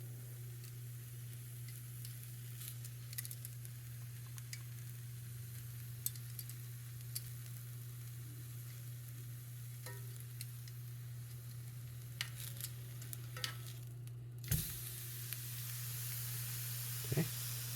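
Steak searing in a pan on a Samsung NE63B8211SS induction range, a steady quiet sizzle and hiss with occasional pops and crackles, plus a constant low electrical hum underneath.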